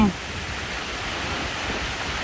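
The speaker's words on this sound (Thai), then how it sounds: "ทั้งฝนทั้งลม" Rain falling with wind at midday over rice paddies being readied for planting, a steady hiss of downpour throughout, with a brief voice at the very start.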